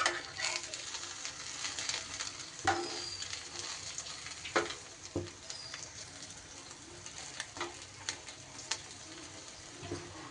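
Food frying in a pan until crisp on both sides gives a steady low sizzle with sharp crackles and pops, while birds coo and chirp nearby.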